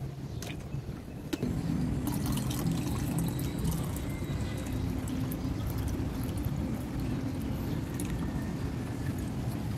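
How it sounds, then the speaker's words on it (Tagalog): Water pours steadily into a hot and cold water dispenser, a continuous gurgling rush with a brief trickle at the start, no voices. "Yan, nilagyan na natin ang tubig."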